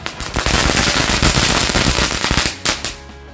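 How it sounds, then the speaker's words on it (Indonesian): A jumbo dinosaur-egg firecracker set off for Chinese New Year bursts into rapid, loud pops that crackle densely for a few seconds, then a couple of final bangs before it fades to quiet. "selanjutnya kita cobain mercon telur dino yang jumbo ya."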